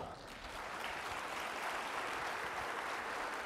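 Steady applause from a keynote audience at an education leadership conference, a dense continuous patter of many hands filling the hall at moderate volume with no voice over it.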